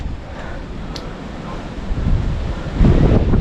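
Strong wind buffeting on a hilltop near a temple at Thoranamalai, Tenkasi, with a loud, low rumbling roar across the microphone that grows stronger toward the end.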